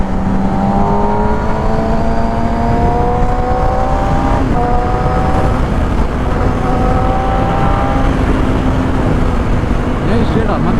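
Superbikes such as a BMW S1000RR, Ducati 899, Yamaha R6, MT-09, Harley and Ninja roaring along a road on an overtaking run, loud sustained engine whine with rising pitch sweeps throughout.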